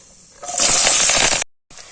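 Chopped shallots, garlic and chillies dropped into hot oil that already holds popped mustard seeds, for a Kerala-style cashew roast: a sudden loud, close hiss that lasts about a second before cutting off abruptly.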